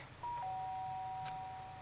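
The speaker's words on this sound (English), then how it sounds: "The sharp sound of the doorbell pierced my sleepy haze and pulled me back to the real world" Doorbell chime ringing in the video game Danganronpa: Trigger Happy Havoc, a single sharp tone that sustains clearly over a low background hum, with no voices.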